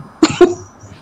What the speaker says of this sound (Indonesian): Kenapa batuk?